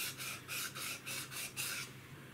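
Sandpaper rubbed back and forth over a wood surface to clean it, six rhythmic rasping strokes up close, quiet and without speech.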